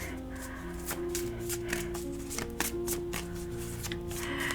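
Tarot cards being shuffled for a reading, a steady run of crisp riffling and slapping card sounds close by, with a soft tonal hum underneath.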